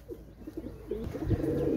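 Pigeons coo in soft, low repeated phrases from a Bangladeshi pigeon seller's stock of Oman teddy, Rampuri and royal teddy breeds, moderately close with faint background noise and no talk.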